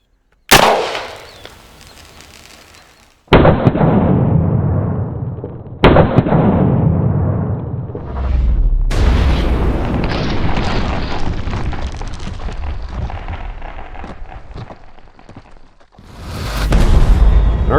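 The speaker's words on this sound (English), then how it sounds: "go ahead and load it and shoot it whenever you're ready." A Dragon's Breath magnesium shotgun round is fired in a series of loud, sharp booms, each followed by a long roaring, crackling burn, with several blasts spread across the stretch.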